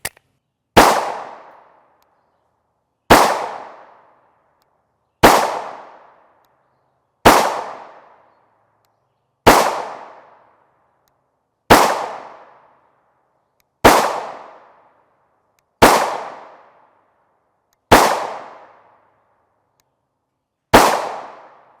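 A Ruger 5.7 pistol with a 5.5-inch threaded barrel fires 5.7x28mm Hornady Critical Defense 40-grain FTX rounds. There are ten sharp, loud single shots about two seconds apart, each with a decaying echo and silence between them.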